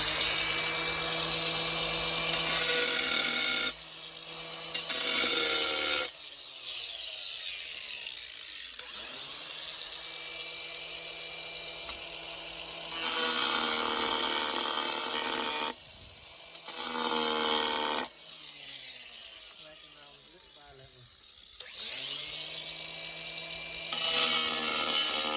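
An angle grinder cuts through thick material while building a tandoor, coming in several loud, sustained bursts of bright grinding separated by quieter gaps with lower mechanical rumble, no talking.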